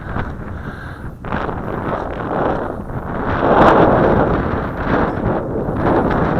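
Wind on a windy day buffets the microphone in a steady roaring rush that swells and eases, loud and close, around a Hubsan H111 Q4 nano drone flying outdoors.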